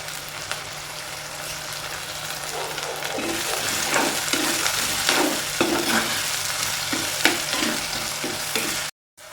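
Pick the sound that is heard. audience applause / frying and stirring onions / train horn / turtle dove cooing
frying and stirring onions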